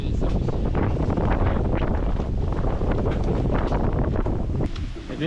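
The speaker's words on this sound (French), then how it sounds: "le vent" Strong wind buffets the microphone on a bicycle trip among friends in the mountains, a loud, continuous roar and rumble filling the whole clip with no clear voices.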